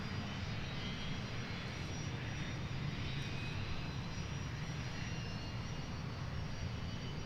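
A private jet's engines roar steadily at Boeing Field airport on a clear evening, a loud continuous broadband rumble with no talking.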